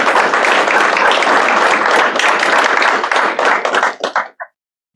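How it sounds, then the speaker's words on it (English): An audience at a career and technical education signing day claps in a loud, dense burst that thins into a few scattered claps and stops after about four seconds. "Let's give Billy a round of applause."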